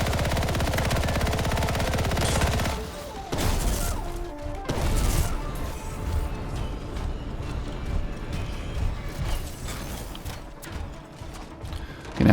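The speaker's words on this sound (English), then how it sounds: "So again, here we're going to have the Burst Mortar, which is just going to be your damage setup. And then Shotgun Blast." Combat from the game Anthem as the Colossus javelin fires its burst mortar and shotgun blast: rapid mechanical rattling and heavy repeated impacts, then scattered blasts and crashes over a dense, noisy battle background.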